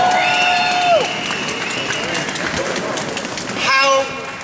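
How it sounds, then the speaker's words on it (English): An audience at a Second Amendment rally in Trenton, New Jersey claps and cheers for an introduced assemblyman, steady crowd applause lasting a few seconds, with a voice over a loudspeaker and tonal sounds rising briefly at the start and end. "Give him a big hand."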